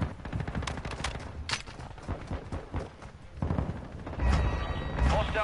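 Rapid bursts of automatic gunfire and single shots from the Modern Warfare 2 multiplayer video game, loud and dense throughout with heavier thuds toward the end.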